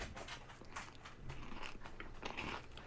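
Crunchy powdered-sugar-coated cookies are bitten and chewed close up, a continuous run of crisp crackling crunches with no voices over it.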